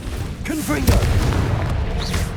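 A Confringo blasting spell goes off in Hogwarts Legacy as a deep, booming explosion with a rumbling tail, close and loud, while a voice calls out briefly over the blast.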